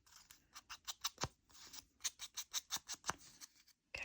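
Scissors snipping out tiny paper calendars, a quiet close run of crisp, quick cuts in two bursts separated by a short pause.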